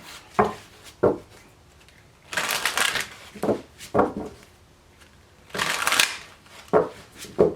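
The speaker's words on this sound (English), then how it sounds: "One more shuffle." Tarot cards being shuffled in several short bursts of riffling and sliding, with quiet pauses between them. The sounds are close and moderately loud, and no one speaks.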